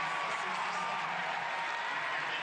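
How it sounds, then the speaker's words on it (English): A stadium crowd at a Tampa Bay Rowdies vs. Indy Eleven soccer match applauds a substituted player: a steady, distant wash of clapping and crowd noise under a commentator's voice. "this guy will get a round of applause"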